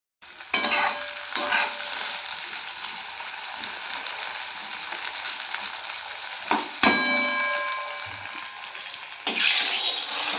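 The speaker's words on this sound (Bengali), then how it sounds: "তো আমি এখন এটাতে মাছ ভাজবো।" Fish rubbed with salt and turmeric sizzles steadily in a pan, a continuous broadband hiss with a loud clatter near the middle and a fresh burst of sizzling near the end.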